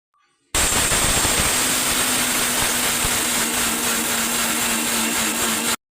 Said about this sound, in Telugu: కొద్దిగా ఉప్పు వేసి మిక్సీ పెట్టుకుంటానండి.